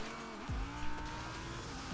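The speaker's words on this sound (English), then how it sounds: "So now is the time to handbrake." In a racing video game, a car's handbrake skid produces sharp tire squeals against a steady engine drone, with two distinct squeal bursts, one early and one at the very end.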